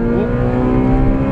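A Honda Civic Si with a K20 engine revs hard and accelerates on a race track. The engine note stays loud and steady and climbs in pitch as it pulls through the rev range.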